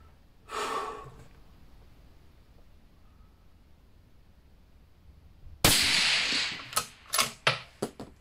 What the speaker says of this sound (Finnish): Nyt ammutaan ensimmäinen kuti tuon.